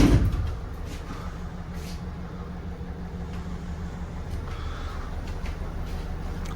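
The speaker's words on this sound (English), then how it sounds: "you can just open the door like that" A van door opens with a solid clunk at the start, followed by a steady low rumble of an idling engine throughout.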